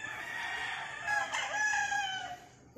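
A Boston Roundhead gamefowl rooster crows once, nearby and clear, a single drawn-out cock-a-doodle-doo lasting about two seconds before it breaks off.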